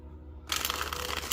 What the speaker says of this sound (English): So shuffling may be a little stiffer